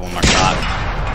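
A single weapon shot fires in a combat game, a sharp loud crack followed by a long booming tail that rolls out and fades slowly.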